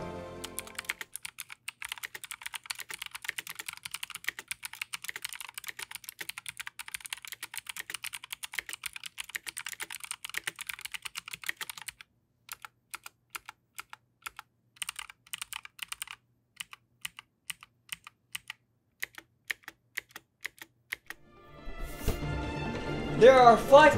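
Rapid clicky typing on a mechanical keyboard fitted with ROG NX Blue tactile switches, a steady run of crisp keystrokes that thins into sparse individual presses, with a brief louder burst of other sound at the very end.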